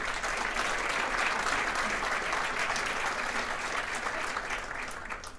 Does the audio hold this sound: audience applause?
yes